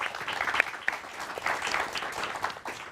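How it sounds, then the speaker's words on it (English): An audience at a university panel discussion on digital media and the 2024 election applauds the panelists, a steady wash of many hands clapping close by, filling the room for the whole stretch with no one speaking over it. "I want to give us a round of applause to all of our panelists."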